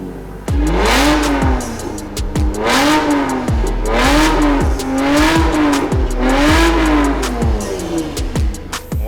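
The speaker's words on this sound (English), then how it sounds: "Camry people are going to be like, whoa, my Camry can sound like that?" A Toyota Camry converted into a street-legal Next Gen NASCAR race car, fitted with a new exhaust, starts up and revs hard repeatedly. Loud, rising and falling engine roars come in roughly four close, powerful bursts with no talking.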